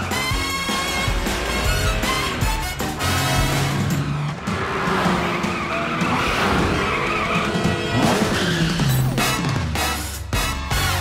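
The PJ Masks Cat-Car, a cartoon vehicle, revs and skids away with loud, repeated tire squeals and a roaring engine that swells and fades over several seconds.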